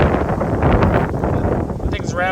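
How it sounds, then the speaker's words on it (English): Strong blizzard wind buffets the microphone outdoors in sub-zero cold beside a grill, a loud, steady broadband roar with gusty rumble throughout and a brief whistling tone near the end. "It's so windy out here."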